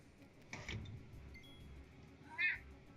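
A cat lets out a short, faint meow near the end, heard over a low steady background hum and a soft earlier rustle, with no talking.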